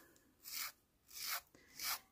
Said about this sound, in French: je lime vraiment tous les côtés des lames de ma lame de massicot